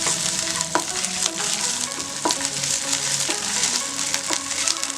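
Onions sizzling steadily in hot oil with ginger garlic paste, a loud continuous frying hiss broken by a few sharp stirring clicks from a spoon against the pan.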